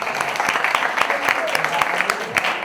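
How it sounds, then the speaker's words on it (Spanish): An audience at a UFO conference applauds, giving steady, dense crowd clapping that holds at one level throughout. "un aplauso para vosotros por venir."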